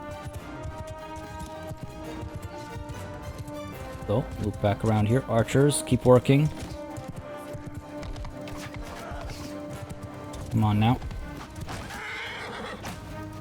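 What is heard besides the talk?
horse galloping and neighing in Mount & Blade II: Bannerlord video game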